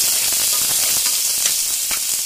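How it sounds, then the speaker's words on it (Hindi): Onion sautéing in refined oil gives a steady, bright sizzle with soft crackling pops, continuous and close throughout with no talking. "और हम डालेंगे 1 प्याज, तो थोड़ा सा सौते कर लिए"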